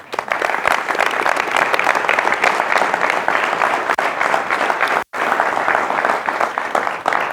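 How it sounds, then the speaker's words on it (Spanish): A church congregation applauds, with dense sustained clapping from many hands filling the room steadily for several seconds and a brief gap near the end. "Dele un aplauso al Señor que le ama."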